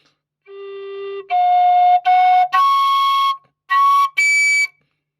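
A plain bamboo flute tube with no holes drilled is blown in a series of short, rising, overblown tones, stepping up from a low note to shrill, airy high pitches with brief gaps.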